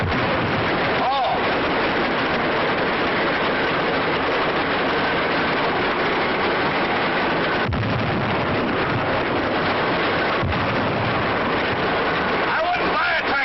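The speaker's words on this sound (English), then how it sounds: "I wouldn't buy a tractor that made so much noise." A loud, constant mechanical roar of a heavy tractor engine, harsh and unbroken, with occasional sharp thumps.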